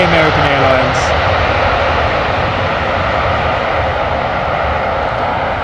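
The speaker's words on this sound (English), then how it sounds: "those 787-800 Dreamliners are loud" Boeing 787-8 Dreamliner jet airliner at London Heathrow Airport, a loud, steady engine roar that fills the whole stretch without fading, with a voice talking over it at the start.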